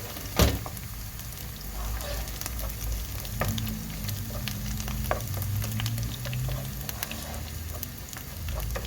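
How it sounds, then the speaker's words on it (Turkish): Tomato paste and onion fry together in a cooking pot, a steady close sizzle broken by repeated scraping and clicking from a spoon stirring throughout. "Salçamızı iyice kavuralım. Soğanla beraber."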